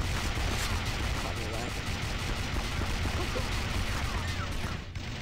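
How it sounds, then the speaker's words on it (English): Frag grenade explosions and gunfire in the video game SAS4, a dense, continuous crackle of booms and shots that fills the whole stretch at moderate level, with players talking excitedly over it. "Oh, my God, grenades. Frag grenades."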